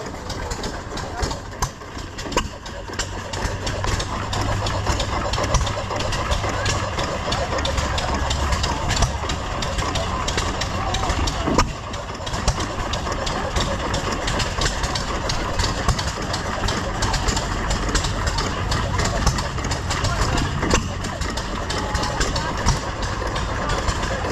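Antique inverted gas engines run steadily nearby at a county fair engine display, a continuous mechanical chugging with faint knocking, while people talk intermittently over the noise.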